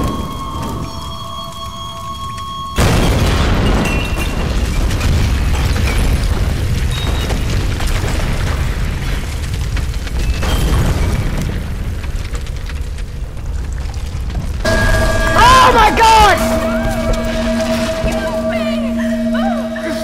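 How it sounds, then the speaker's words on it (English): An explosion in a video game erupts suddenly into a loud, deep, rumbling boom that rolls on for several seconds, followed by further blasts and game effects, with players talking. "That's gonna explode."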